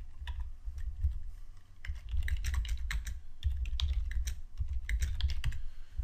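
Rapid typing on a computer keyboard while writing PHP code, with steady clusters of close, crisp key clicks and no talking.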